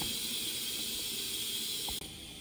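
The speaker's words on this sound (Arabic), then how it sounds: "الكوكو ديالي هي كتوجد انا دابا صافي هي بدات تصفر" A pressure cooker on a home stove hisses steadily with escaping steam and a whistling tone, loud and close, with no talking, the hiss dropping in level just before the end.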